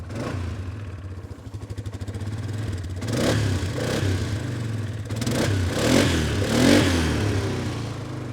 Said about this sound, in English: I'm just gonna give it a little throttle.